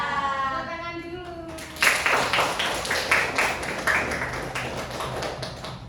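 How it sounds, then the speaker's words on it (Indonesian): An audience bursts into clapping at a school gathering after a spoken line over a tonal background hum, the claps rhythmic and fairly close, continuing steadily for several seconds. "Tepuk tangan dulu"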